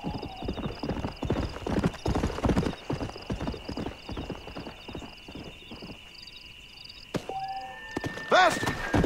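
Hooves pound in quick, rhythmic clip-clops as a horse gallops in the video game Red Dead Redemption, fading out near the end, followed by a short whinny.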